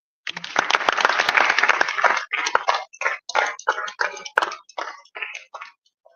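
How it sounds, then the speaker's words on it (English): At a Pan-Africanist event in Kenya, an audience bursts into applause that starts full and dense, then thins into sporadic clusters of claps before fading out. "Can we have a better round of applause?"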